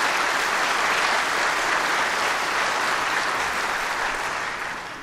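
Sustained applause from an audience at a memorial service for a country singer, a dense, even wash of clapping that fades slightly at the end, with no speech.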